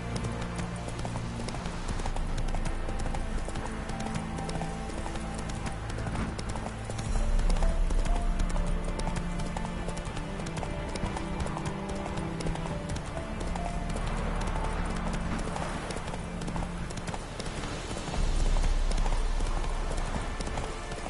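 Horse hooves clip-clop at a steady gallop in The Witcher 3, with continuous game music and ambience layered underneath and brief louder swells partway through.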